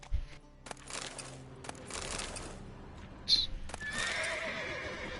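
Roach the horse in The Witcher 3 video game lets out a loud, close neigh and whinny with snorting, alongside brief hoof clopping and game ambience.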